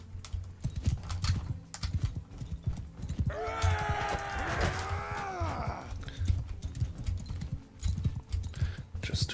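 Horse hooves clip-clop at a steady trot through a Mount & Blade 2 Bannerlord battle, close rhythmic thuds running throughout while a horse gives a loud whinny midway.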